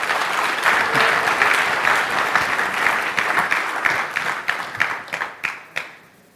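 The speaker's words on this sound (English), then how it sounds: "the full Your Story team, deserves a huge round of applause" Audience applause fills a keynote hall, a dense steady clapping that holds strong for several seconds before thinning into scattered individual claps and fading out.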